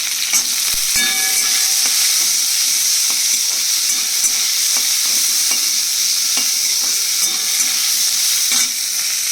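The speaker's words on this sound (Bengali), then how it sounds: "এবারে যে পেঁয়াজটা রসুনটা লঙ্কা একটুখানি নাড়াচাড়া করে নিলাম।" Garlic cloves, onion and chili stir-fry in a pan with a loud, continuous close-up sizzle, broken by repeated scrapes and taps of a spatula.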